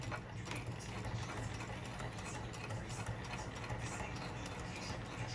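Sewing machine stitching the seam of a zipper pouch, a fast, even mechanical whir with rapid ticking needle strokes, steady and fairly quiet throughout.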